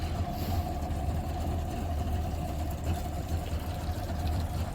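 A Mariner Bigfoot 60 outboard motor drones steadily at a low, even pitch on a fishing boat, fairly quiet and continuous with no talking.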